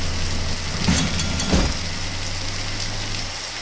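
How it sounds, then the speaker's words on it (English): Rain falls in the naval battle video game Battle of Warships, a steady loud hiss over a low engine hum with a couple of brief louder swells. "It's raining."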